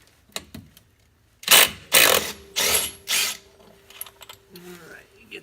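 A ratchet backs a bolt out of the secondary clutch on a 2018 Polaris 900 XP, with four loud bursts of rapid clicking in a row, a few lighter clicks and handling noises before and after.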